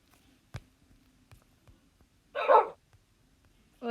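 A dog in the Minecraft video game barks in short, separate yips against near-silence, with a louder bark burst in the middle and another starting at the end.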